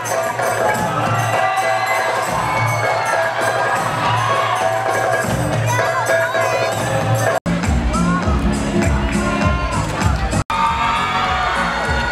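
An audience at the 2018 Aceh tourism ambassador pageant in Indonesia breaks into loud, sustained applause with cheering and shouting that fills the hall, while a presenter's voice carries over the crowd.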